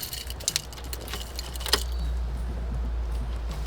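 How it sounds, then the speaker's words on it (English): A car key jangles on its ring and is pushed into the ignition during a steering wheel swap, a cluster of light metallic clinks over a low steady hum, then quiet. "I need to put the key in so that we don't snap the steering lock"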